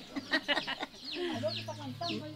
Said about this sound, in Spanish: lo único que hay que hacer es callar los gallos nomás porque gusta que son bolineros los diablos